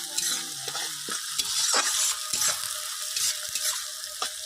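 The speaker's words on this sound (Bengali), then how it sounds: "পেঁয়াজগুলো দিয়ে দেবো পেঁয়াজগুলো একটু লাল লাল করে ভেজে নেবো" Chopped onions fry in hot oil in a pan as chicken curry gets underway, giving a steady crackling sizzle broken by a few scraping stirs of a spatula, close and with no voices.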